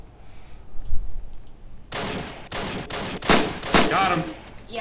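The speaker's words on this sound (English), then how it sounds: "I shot him from the inside, bro." Video game shootout gunfire: a burst of loud, sharp shots after a quieter second or two, with several separate reports and rapid volleys close by.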